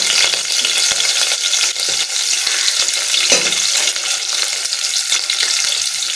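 Onions and green chilies fry loudly in a pan for bagara rice, giving a steady, close hiss of sizzling oil with occasional stirring scrapes throughout. No voices are heard.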